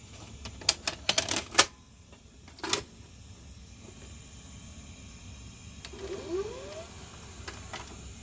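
A 1983 Mitsubishi HS-700UR portable VCR starts playing a tape: a cluster of sharp mechanical clicks, a brief clunk, then a soft rising motor whir, close and quiet.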